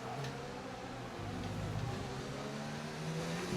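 A Formula 1 car engine drones steadily in the racing video game F1 2019, heard fairly quietly at an even pitch with slight rises in intensity.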